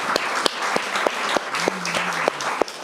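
An audience claps for a presenter coming to the stage at a talk on Giorgia Meloni, with warm continuous applause and a few louder, distinct claps standing out near the microphone.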